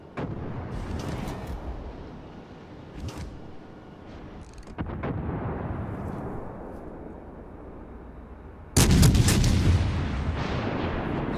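Warship main guns firing in World of Warships Legends, heavy booming salvos over a low rumble, with a sudden loud blast near the end followed by a sustained roar.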